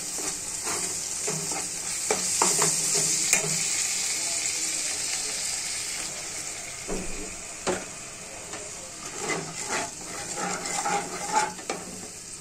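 Spice paste of garlic paste, mustard paste, dried chilli powder, turmeric and salt fries in a pan, sizzling continuously while a spoon scrapes and stirs in uneven bursts, close and fairly loud.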